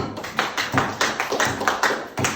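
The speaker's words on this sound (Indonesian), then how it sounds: "kita beri aplaus untuk penampilan kelompok" A classroom group applauds a student group's performance with a few seconds of brisk, uneven clapping from a small, nearby crowd, sharp hand claps overlapping in quick succession.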